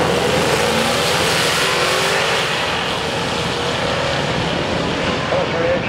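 Drag race cars roaring down the strip at Great Lakes Dragway during a Ford day event, a loud continuous engine blare from a distance with broad noise throughout.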